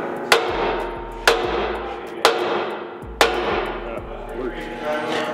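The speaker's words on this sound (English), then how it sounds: "hitting this part of the spindle with a hammer to break this loose" A hammer strikes a Tacoma truck's steering spindle to break it loose, with four sharp metallic blows spaced about a second apart and ringing briefly in a workshop.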